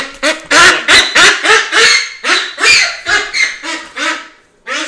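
Small ducks quack loudly and rapidly at close range, a dense run of harsh, nasal calls following one another with barely a pause.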